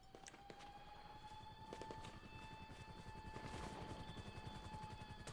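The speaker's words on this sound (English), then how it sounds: "If I had my weapons, that helicopter would not be in the sky." A helicopter hovers in GTA Online during the Cayo Perico heist, its steady rotor chop pulsing low and continuous under a busy game soundscape of scattered sharp cracks and clatter.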